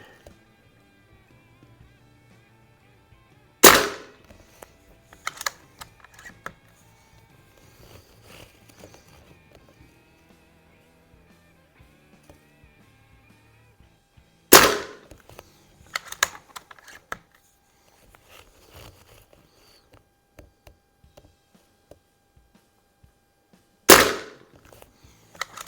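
A Beeman Raider .177 PCP air rifle fired at an outdoor range: three sharp, loud cracks spaced roughly ten seconds apart, with faint clicks and handling noises between shots.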